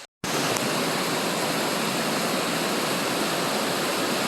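A waterfall near Horse Lake roars as a loud, steady, broadband rush of falling water, continuous and close, with no voices.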